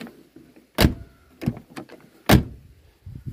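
A 1990s Ford car door slams shut several times, each a solid, sharp thud with a short decay, separated by quiet pauses and faint handling noises.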